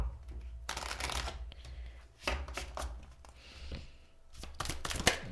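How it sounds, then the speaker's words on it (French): Archangel Michael oracle cards being shuffled and drawn by hand, soft papery riffles and slides in several bursts, fairly close, with no talking. "je vais vous tirer une carte de l'archange Michael"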